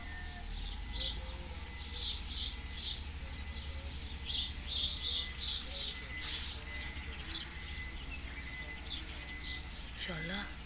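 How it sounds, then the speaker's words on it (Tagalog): Small pipits chirping and calling in repeated short bursts on a farm in Abdaly, Kuwait, fairly close, over a steady low background hum, with a person talking at times. "Ibong pipits."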